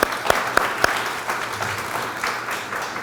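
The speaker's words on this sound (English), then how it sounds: "let's give those folks a round of applause" Audience at a legislative update luncheon applauding, a steady wash of many hands clapping with a few sharper nearby claps early on, continuous and fairly loud without talk.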